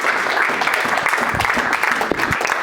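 Audience clapping steadily throughout a lively church worship service, a dense continuous wash of many hands with no voices rising above it.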